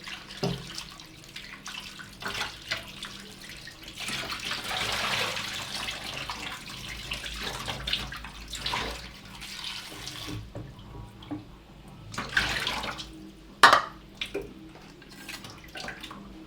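Tomatoes being washed under a running kitchen tap: a steady, close stream of water splashing in a sink for several seconds, then breaking into shorter splashes and drips as the flow changes.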